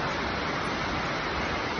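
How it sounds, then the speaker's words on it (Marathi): Torrential rain in Virar makes a steady, roaring wash of noise that fills the whole moment, close and loud, with no speech over it. "खूप जोरात आलाय पाऊस विरारला."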